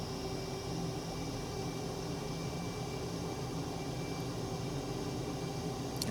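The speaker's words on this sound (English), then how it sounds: "what we're going to do is throttle up the full military power again" F-18 fighter jet engine throttled to full military power during a climb in Microsoft Flight Simulator 2020, a steady, even roar with a hissing noise-like texture that holds constant throughout, moderately quiet and with no talk.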